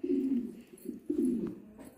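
Pigeons cooing close by, two soft throaty coos with a short pause between them, no talk.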